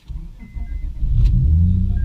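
A 2006 Honda Accord V6 with a stage 2 cam fires up, a brief starter crank giving way to a deepening low rumble that settles into a steady idle, close by.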